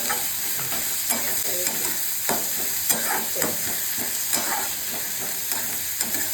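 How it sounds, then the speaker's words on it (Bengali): Onions fry in a pan, a steady sizzle broken by repeated scraping as a spatula stirs them, with no talking. "পেঁয়াজটা একটু ভাজা ভাজা হবে, বেশি খুব একটা ভাজার দরকার নেই"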